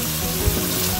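Potatoes fry in oil for crisp golden browning, giving a dense, steady sizzling hiss close by, continuous and even with no talk.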